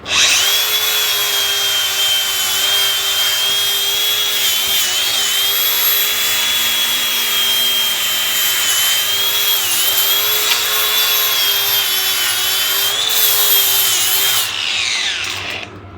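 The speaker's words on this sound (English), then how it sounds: "All right, so I got the outside grinded up." A grinder works over race tractor bodywork, a loud continuous high whine with a rough abrasive edge, held steady for about fifteen seconds before it winds down, close up with no talking.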